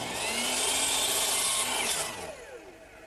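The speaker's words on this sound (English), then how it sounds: "I'll make a cut about 1/8 of an inch away from my line to see how it is," A handsaw in a miter box cuts a wooden stretcher for a kitchen worktable, giving steady, close rasping strokes that run hard for about two seconds and then taper off as the cut finishes.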